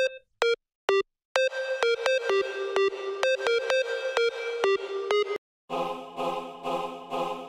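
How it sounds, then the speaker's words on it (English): An Omnisphere choir preset plays chords dry, with no reverb: a run of short, clean, pitched notes with gaps between them, then fuller sustained chords at the end. "This is an Omnisphere, and it's a choir preset, actually."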